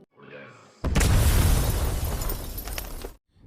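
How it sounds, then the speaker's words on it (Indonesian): A bomb detonates in a film scene: after a brief quieter sound, a sudden loud blast erupts into a sustained, crackling roar with debris that lasts a couple of seconds before cutting to silence. "Rishi pun meledakkan bom tersebut."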